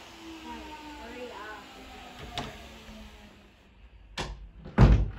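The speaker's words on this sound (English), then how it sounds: "Mallory, do you want to go shut the door while I keep going here?" A house door is shut with a hard slam near the end, following a fainter thump earlier, while background chatter and household noise from nearby construction continue.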